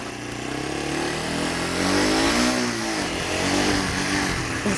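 2018 Daelim Roadwin 125 R motorcycle being ridden, its small single engine droning loudly and close, rising and falling in pitch as the throttle changes under steady wind and road noise.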